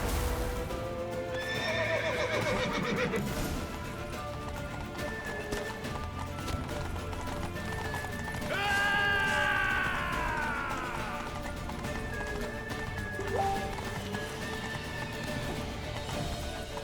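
A horse in The Witcher 3 lets out two loud neighs while its hooves clip-clop steadily underneath, with game noise filling the background.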